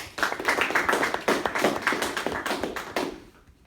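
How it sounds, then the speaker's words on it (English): A small audience claps for Camille at the start of a cultural artifact speech: dense, fairly loud applause that tails off after about three seconds, with no talking. "let's give Camille a big round of applause"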